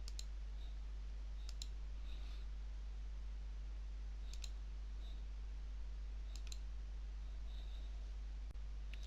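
Sparse, faint computer mouse clicks during work in Houdini 3D software: a few quick single and double clicks spaced seconds apart over a low steady hum, with no talking.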